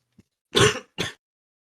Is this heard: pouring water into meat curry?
no